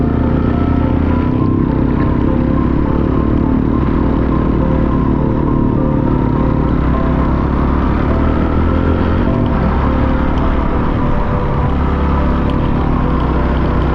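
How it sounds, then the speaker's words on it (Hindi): A motorcycle climbing a narrow mountain road in Samahni Valley, Bhimber, Azad Jammu Kashmir, giving a steady, loud engine drone with wind and road rumble throughout, heard from the rider's position with no talking. "और मज़ा आ रहा है बाइक चलाने का यहाँ पे।"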